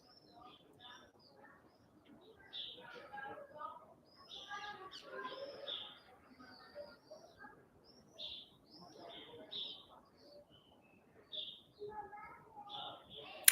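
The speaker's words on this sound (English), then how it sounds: "I personally am focusing on the birds that I can hear." Birds chirp and sing in short, repeated bursts throughout, fairly soft, with a low background murmur underneath.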